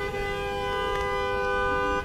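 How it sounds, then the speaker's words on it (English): Car horns sound on the Las Vegas Strip during the F1 Grand Prix, a steady sustained honking tone held for about two seconds over a busy street background with no talking. "oh man, you got people honking"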